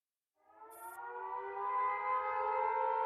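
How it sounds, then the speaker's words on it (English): An air raid siren from the game Girls' Frontline wails over Frankfurt, rising in from near silence into a loud, sustained howl that swells and holds steady to the end, with no voices. "A piercing, prolonged air raid siren howls over Frankfurt."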